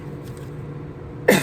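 A single cough bursts out near the end, close and fairly loud, after a stretch of quiet room tone.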